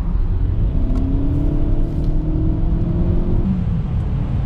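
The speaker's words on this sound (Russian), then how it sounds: "когда я нажимаю педаль, первые там полсекунды ничего не происходит, потом чувствую, раскручивается" A FAW Bestune T77 or EXEED LX crossover accelerating hard from 60 km/h, heard from inside the cabin as a steady, loud engine drone and road rumble with a rising whine over several seconds, no voices.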